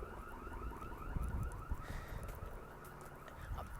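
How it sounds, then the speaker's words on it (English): A car alarm wails at a distance, its repeating electronic tone cycling steadily and fairly faint against the outdoor background. "Car alarm."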